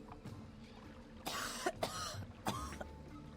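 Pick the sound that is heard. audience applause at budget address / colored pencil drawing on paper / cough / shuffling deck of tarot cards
cough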